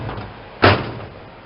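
A drawer in a vehicle is handled with one sharp knock or slide-shut thud near the middle, loud and close, then quiet room tone.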